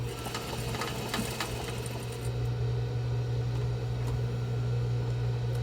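A sewing machine runs steadily at close range, stitching a box-style fabric face mask with a continuous humming whir and a few faint clicks near the start.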